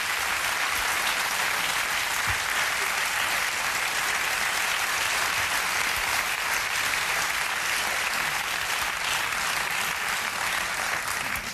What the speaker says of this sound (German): So viel Applaus kriegen aber hier nicht viele